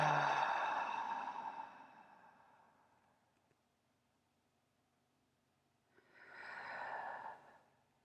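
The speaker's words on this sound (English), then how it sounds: "make the sound of the air coming out of your mouth on the exhale" Deep breaths pushed out through the mouth during a guided meditation, two long breathy exhales: a strong one that fades away, a quiet pause, then a second rushing breath, close to the microphone with no talking.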